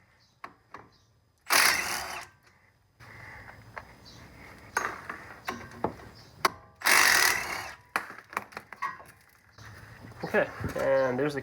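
A hand ratchet backs out 17mm caliper bracket bolts on a Honda Pilot during a disc brake service: bursts of quick clicking and metallic clanks separated by pauses, fairly close, with a voice speaking in between.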